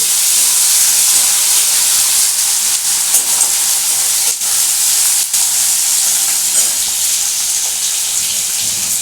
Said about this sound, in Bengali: পেঁয়াজ কুচিটা আমি দিয়ে দেবো এটাকে একটু ভালো করে ভাজবো